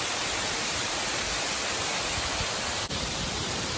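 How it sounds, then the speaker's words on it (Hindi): Ball's Falls waterfall pouring steadily on a hiking trail, a dense continuous broadband rush with no breaks, close and loud, with one brief dip near the end. "ये देखो झरना इस गाँव में बह गई है झरझर।"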